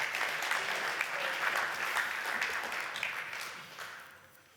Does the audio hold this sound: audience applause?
yes